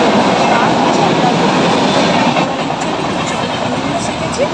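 Busy station ambience at Howrah railway station in Kolkata: a loud, steady wash of train and platform noise, rumbling and rattling continuously with a faint squeal, crowd murmur blended underneath.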